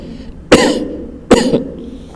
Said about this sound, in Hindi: फिर गहरी सांस लेना है और फिर खांसना है।